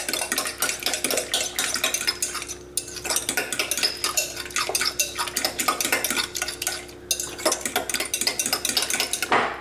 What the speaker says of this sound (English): all I'm going to do is give these ingredients a good stir